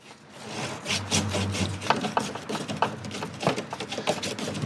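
A brush laying heavy paint onto a wall of a haunted dollhouse, heard as close, steady scrubbing and rubbing strokes in a continuous rhythm, with a low hum beneath early on.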